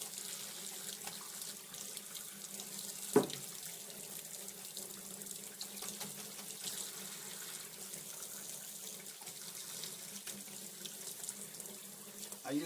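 Tap water runs steadily into a sink while a paint brush is rinsed clean of red paint, a constant close splashing hiss with one brief louder knock partway through and no talk.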